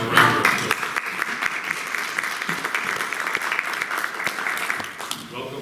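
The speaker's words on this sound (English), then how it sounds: "Let's have a round of applause" An audience at a board meeting claps together in sustained applause that starts loud and stays steady for several seconds before tapering slightly, with a few voices mixed in.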